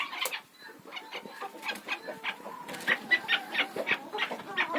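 A laying hen in a rural henhouse clucks close by, a busy run of quick clucks and small squawks that grows denser toward the end, with no speech.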